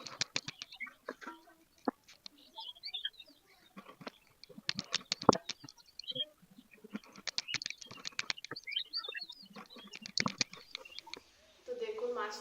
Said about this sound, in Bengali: মাগুর চলুন কেটে নিই আগে মাছটাকে।